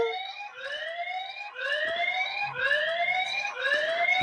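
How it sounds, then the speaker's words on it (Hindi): A CCTV-linked animal deterrent siren, used to scare off monkeys, sounds a repeated rising electronic whoop, five sweeping cycles roughly a second apart, fairly loud with faint background clatter. "जरा सायरन इसका।"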